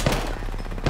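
Video game gunfire in a short burst of rapid, muffled shots at moderate loudness, with a heavier thump at the start and end.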